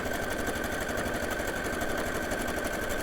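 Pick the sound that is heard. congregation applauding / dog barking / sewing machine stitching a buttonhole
sewing machine stitching a buttonhole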